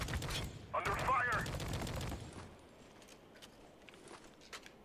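Gunfire from the video game Spec Ops: The Line, with a loud burst of shots and clatter at first that fades to quieter ambience. Voices are heard over the opening shots.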